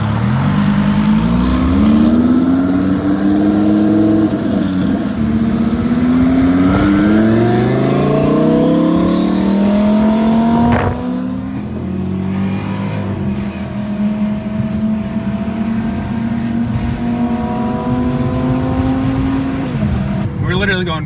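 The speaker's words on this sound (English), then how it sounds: "the twin turbo spooling up is one of the most satisfying noises I could ever have imagined" A 1,000-horsepower twin-turbo DDE Tireslayer car cruises with other cars nearby. Its engine roars loud and close, with tones that climb repeatedly as it builds boost, ease off, then climb again.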